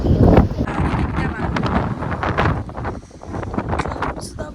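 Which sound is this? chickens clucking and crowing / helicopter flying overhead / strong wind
strong wind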